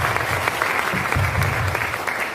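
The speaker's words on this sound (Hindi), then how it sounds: "एक जबरदस्त ताली होनी चाहिए सुभाष सर के लिए" Enthusiastic audience applause for a respected mentor at a motivational business gathering, a short burst of dense clapping with low murmuring underneath.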